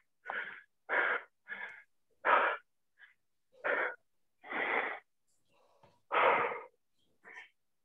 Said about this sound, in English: I hear these guys breathing hard online.